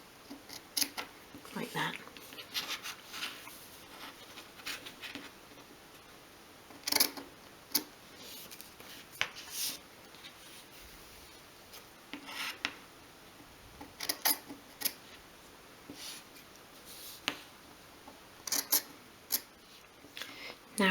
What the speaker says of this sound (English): and then we can cut away each corner